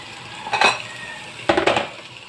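A spoon scrapes and clinks against a pan as chicken liver adobo with soy sauce and vinegar is stirred. Two short, close bursts of metallic scraping sit over a low background hiss.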